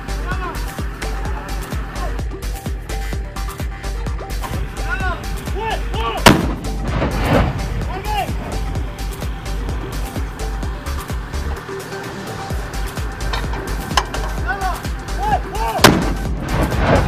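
The EIMOS integrated mortar system, mounted on a vehicle, fires during a test: several heavy, loud booms spaced over a continuous engine rumble, with a voice narrating over it.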